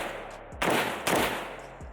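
A Pioneer Arms 556 sporter underfolder AK rifle fires two loud, sharp shots in quick succession outdoors, followed by a fainter third crack, each with a short echoing tail.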